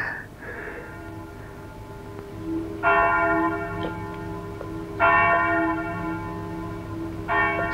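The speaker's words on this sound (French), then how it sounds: "C'est la cloche du palais de justice." The church bell of the palace of justice tolls three times at slow, even intervals, each stroke ringing out and fading over a low steady background hum.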